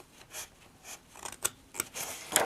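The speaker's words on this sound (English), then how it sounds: "I like to do a little cut up the center." Close, quiet snips of scissors cutting paper for a journal, a handful of short crisp cuts spaced irregularly with soft rustling between them.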